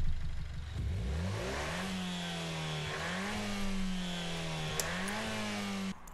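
In Gran Turismo Sport, a car engine revs up hard and climbs through gears, holding a loud, steady mid-pitched drone with small shifts in pitch, close and alone without talk.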